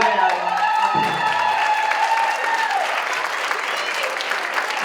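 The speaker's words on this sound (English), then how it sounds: "I would like for y'all to stand up and give her a good round of applause." A standing audience at a women's forum breaks into sustained, dense applause that stays loud and steady throughout, with voices mixed into the clapping.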